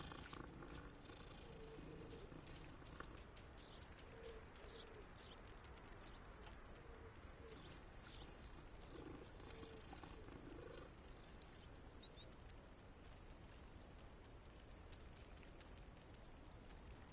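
Cat being petted in Hogwarts Legacy, a soft continuous purring over a quiet outdoor ambience with faint birdsong and cooing throughout.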